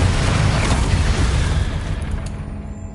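The Bombarda blasting spell explodes in the Hogwarts Legacy video game. It is a single loud, deep boom with a rumbling burst that decays over a few seconds and trails off into quiet.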